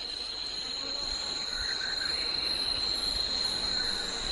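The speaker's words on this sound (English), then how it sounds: "A cherry cricket even taunts it, cheekily stopping in its tracks for a second." A cherry cricket chirps with a steady, thin high-pitched trill near a praying mantis, continuous and fairly close over a soft hiss, with no voices.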